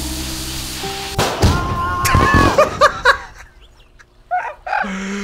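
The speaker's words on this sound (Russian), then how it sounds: "Я достал фейерверк. Поджег." A firework set off indoors in the video game My Summer Car, giving a sharp burst followed by whistling, crackling pops and scattered bangs, loud and close before trailing into a few fainter pops.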